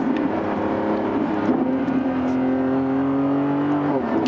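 A 1015-horsepower Lamborghini Revuelto accelerating, with a close, continuous engine note that rises steadily in pitch under road and wind noise.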